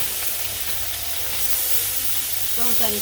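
Koi fish fry in a pan while being cooked with cauliflower, giving a constant close sizzle and hiss, with a faint voice briefly audible near the end.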